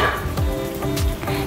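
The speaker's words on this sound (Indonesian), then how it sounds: "Kita goreng ini sampai bagian bawahnya kering dan coklat ya." Martabak made with spring roll wrappers and egg fries in hot oil, a loud close sizzle and crackle with small pops throughout.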